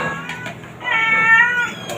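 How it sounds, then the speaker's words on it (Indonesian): Sick cats at an animal shelter meow repeatedly at close range, several short, plaintive cries overlapping with a longer drawn-out wail in the middle. "Ah ini semua kucing-kucing sakit guys."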